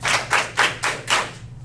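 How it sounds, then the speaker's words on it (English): Five sharp group claps in unison, evenly spaced and close, at a council meeting after a team cheer, with a low steady hum running beneath. "5 claps."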